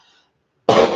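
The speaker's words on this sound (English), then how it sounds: "I'm gonna have to cough." After a moment of near silence, one abrupt, loud cough bursts out close to the microphone.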